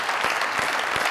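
A studio audience at a comedy talk show bursts into loud, dense applause, a continuous wash of many hands clapping close by without any talk.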